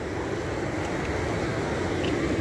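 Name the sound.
Balakovo waterfalls rushing water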